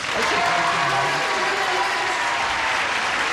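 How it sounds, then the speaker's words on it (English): A television game show studio audience applauds steadily, a dense wash of clapping from many hands with a few voices mixed in, loud and sustained throughout. "let's all give a big rousing round of applause to Cindy Cave and Tim Baker over here."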